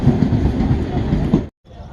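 Passenger train pulling into a station, a loud steady rumble of wheels and carriages close by that cuts off abruptly near the end, with no talk over it.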